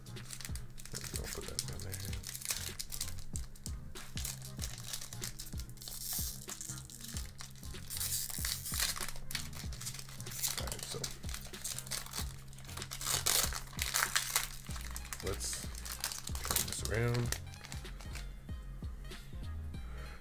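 A Pokémon Fusion Strike booster pack wrapper crinkles and tears open close by in dense, continuous rustling bursts, with a person talking over it.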